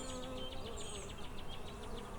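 A dense, steady hum of many honey bees swarms around an opened beehive, buzzing close and continuously with small shifts in pitch as individual bees pass by.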